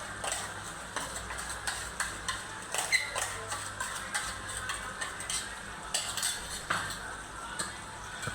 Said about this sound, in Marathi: मिक्स करून घ्यायचं आणि छानपणे मिक्स करायचं आहे.